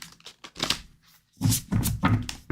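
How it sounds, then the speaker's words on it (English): Tarot cards being shuffled by hand, with several crisp riffling bursts and soft flicks, close and fairly loud, separated by brief pauses. "Let's shuffle real good, Jessica."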